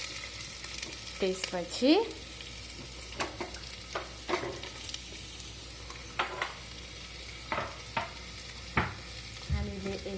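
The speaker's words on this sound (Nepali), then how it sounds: "यसो गरेर एकैछिन चलाउने" Unpeeled potatoes stirred and fried in a pan, with sporadic scraping strokes of a spoon over a soft steady sizzle and a brief spoken word.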